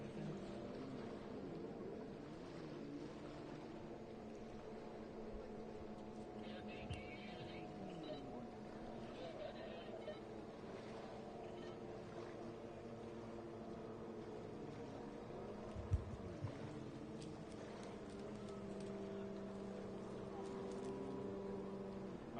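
Racing boats in a live race at Altus, Oklahoma, drone as a faint, distant engine whine that rises and falls across the water, with a light bump of noise partway through.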